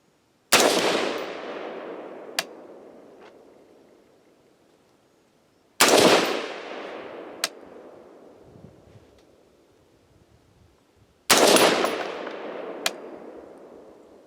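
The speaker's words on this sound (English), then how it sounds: "So I'm going to shoot a group with that, show you what that looks like" A rifle fires three single shots of 55 grain Hornady Varmint Express V-MAX ammunition at an outdoor range, each a loud sharp crack with a long decaying echo, spaced about five seconds apart, with no talking.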